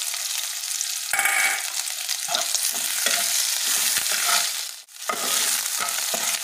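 Crushed ginger added to hot oil with onions in a pan, frying with a steady loud sizzle and occasional stirring scrapes, briefly dipping before the frying resumes.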